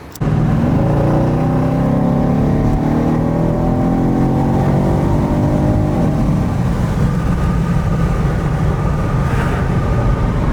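A powerful Mercedes-AMG wagon engine roars up close, revving hard and climbing in pitch as it accelerates, then settles into a loud steady drone.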